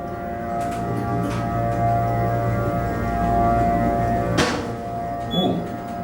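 Parking garage elevator motor in Lincoln, Nebraska running, a steady low droning hum with tonal whine, then a sharp clunk and a brief rattle as the car moves.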